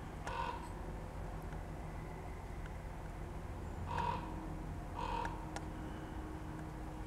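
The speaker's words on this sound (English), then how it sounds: "good timing there, Crow." A crow outdoors caws three times, one harsh call near the start and two more a little later, over steady low background noise.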